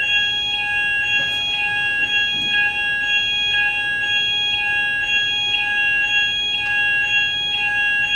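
Steady high electronic alarm rings continuously at an even level, with faint periodic pulses underneath and no talking.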